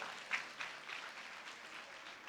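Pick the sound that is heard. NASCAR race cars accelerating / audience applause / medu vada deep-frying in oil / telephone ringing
audience applause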